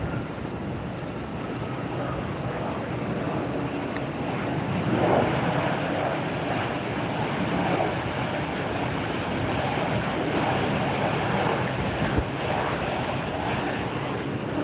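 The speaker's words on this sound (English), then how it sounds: "Got a Breeze Airways going by." A Breeze Airways airliner passes by at Tampa airport on a very windy day, a steady broad roar that swells slightly midway, mixed with gusty wind noise and no talk.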